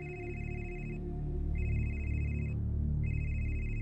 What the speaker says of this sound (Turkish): Dayı, telefonun.